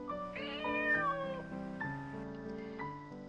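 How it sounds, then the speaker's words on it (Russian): A kitten gives a long, clear, drawn-out meow that slides and wavers in pitch, close and distinct with no other sound. "Можно поиграть с котенком."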